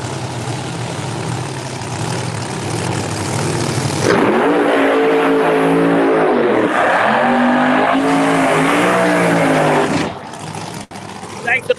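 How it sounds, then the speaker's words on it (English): A Chevelle drag race car in the far lane roaring down the track, its engine building from a loud idle into a sustained high-revving howl with gear changes, then fading away. "Eddie Rogers in the Chevelle from Hell, far lane."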